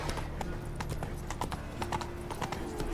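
Roach the horse trots along in The Witcher 3, hooves clip-clopping in a steady rhythm over a low, continuous game ambience.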